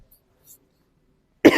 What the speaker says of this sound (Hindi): खांसी आ रही है यार आज